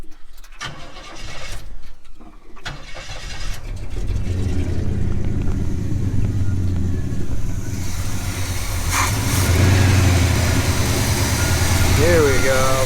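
A car engine starts and then settles into a steady, raised idle after being revved up, loud and close, with a brief voice early and rising tonal hum near the end.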